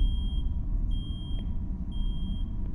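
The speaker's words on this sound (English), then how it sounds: "Do you want to turn that alarm off, please?" A repeating electronic alarm in a VHS-style horror video game, high steady beeps pulsing in long on-off cycles over a low droning rumble, with no voices.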